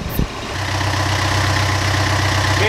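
A boat's generator hums steadily at close range after a brief clank, its low drone holding constant throughout.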